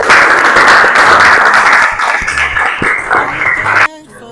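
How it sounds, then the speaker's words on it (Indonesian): A classroom of students applauds two classmates after their news presentation, with loud, dense clapping that runs steadily for several seconds and then stops abruptly. "Kita aplaus dulu untuk kedua teman kita yang sudah memberikan penjelasan"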